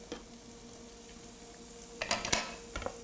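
Onions saute in heated olive oil in a pan with a quiet background sizzle, then sharper crackles and spoon scrapes against the pan toward the end.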